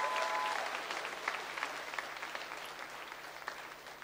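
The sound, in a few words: congregation applauding in church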